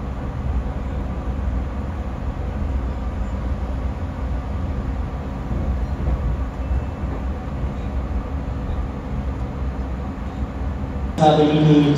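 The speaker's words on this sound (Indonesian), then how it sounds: "adalah niat kereta api penumpang Pandalungan dengan nomor KA 77M" The Pandalungan passenger train KA 77M rolls along with a steady low rumble and rhythmic wheel noise heard from aboard, ending in a sudden louder burst.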